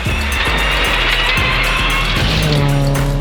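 A rally car races along a stage, its engine loud and close with repeated rising revs and gear shifts, a steady roar throughout with no voices.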